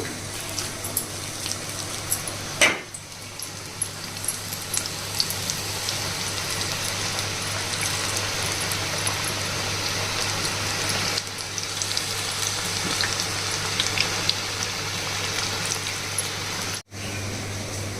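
Onion pakodi and mirchi bajji fry in hot oil, a steady close sizzle and crackle with a brief sharp pop near the start and a short dropout near the end.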